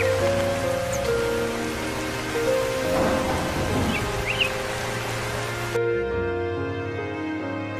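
Steady rain patters with a low rumble of thunder, mixed under sustained background music that cuts out near the end.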